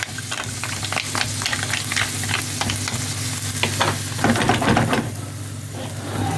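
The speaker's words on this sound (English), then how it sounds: "So, in they go. Shells and all. Let's get that stirred around." Shellfish in their shells are stirred through a thin sauce in a hot pan, making a steady bubbling sizzle with repeated clicks and scrapes of the stirring, loud and close with no talking.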